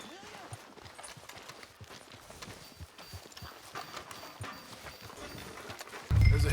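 A horse's hooves clip-clop in the Red Dead Redemption 2 video game, a steady walking rhythm of soft hoofbeats at moderate distance that ends in a sudden louder thud.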